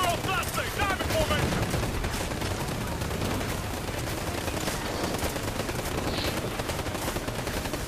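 Gunfire in the video game Ghost Recon Future Soldier: sustained rapid automatic bursts and overlapping shots fill the whole stretch, loud and dense, with faint game voices underneath.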